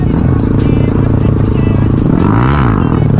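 A motorcycle revs hard while doing a wheelie, a loud, close, throbbing engine roar with rising and falling pitch, clatter and road noise around it.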